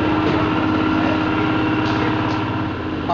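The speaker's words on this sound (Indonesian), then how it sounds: "ini adalah mesin power thresher atau mesin rontokan padi milik Bapak Carna yang sudah jadi" A power thresher, a rice threshing machine, runs with its engine going steadily at close range, a loud continuous mechanical drone and rattle with no pauses.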